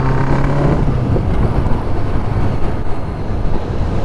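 A 1978 Honda Goldwing motorcycle being ridden during a clutch test: loud, steady engine drone with rushing wind noise throughout, close and continuous.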